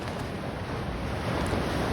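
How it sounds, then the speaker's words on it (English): Large waves, six feet or more, surging against a rocky shoreline make a steady, loud roar of surf with wind buffeting the microphone, continuous and without voices. "in person, those are 6 foot plus high waves"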